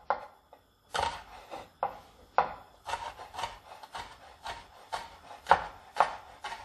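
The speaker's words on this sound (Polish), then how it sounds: "A następnie kroję w takie drobne plasterki." A knife slices a chili pepper into thin rounds on a wooden cutting board, giving a series of close, crisp taps and rasping cuts that come in irregular bursts, with no talking.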